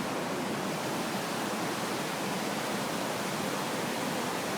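Waterfall roaring steadily at a swimming spot, a dense, even wash of broadband rushing water that holds without pause for the whole stretch.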